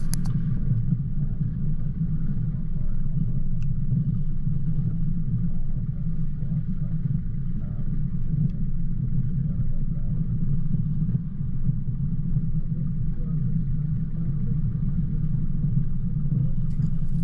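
A car drives along the road by Lake William Hovell toward Tomahawk and King Hut, its engine a loud, steady low rumble inside the cabin that never lets up.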